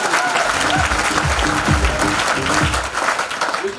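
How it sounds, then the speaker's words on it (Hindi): Loud, steady applause from a crowd fills the whole stretch, dense and continuous with a few sharper bursts of clapping. "कितनी जोरदार ताली है यार, जोरदार ताली"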